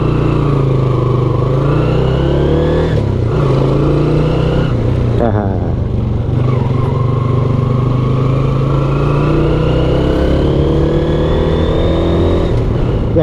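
A Suzuki Shogun SP 125 motorcycle being ridden, with a loud continuous engine drone and whining primary gear noise that rises and falls with speed, recorded close up without pauses.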